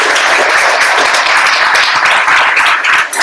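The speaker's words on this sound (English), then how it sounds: "round of applause for our speaker tonight" Meetup audience applauding a speaker at the end of an Apache Spark evening talk, a loud, close, continuous patter of many hands clapping that holds steady, then dips near the end.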